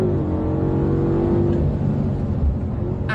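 BMW M5 safety car engine pulling hard toward the red line, a loud, close, steady drone with its pitch holding high and strong across the whole stretch.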